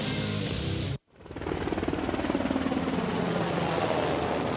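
A Navy Seahawk helicopter flies close by, its loud, steady rotor chop and turbine roar filling the clip after a brief second of silence, with an unrelated sound cut off at the start.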